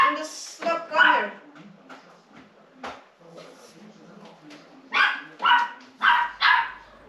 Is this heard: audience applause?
no